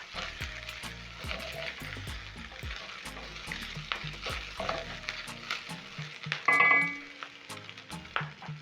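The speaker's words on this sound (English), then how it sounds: "Cook the sausages for around 1 minute." Chunks of large sausage fry in a hot pan with a steady, close sizzle and crackle, broken by repeated scrapes and knocks of stirring, and a short bright metallic ring near the end.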